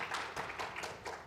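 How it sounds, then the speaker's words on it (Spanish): Audience applause at a panel event on diversity and innovation in Mexico, a short burst of steady clapping from a crowd at moderate distance, with no voices over it. "Les pido un aplauso para todas ellas."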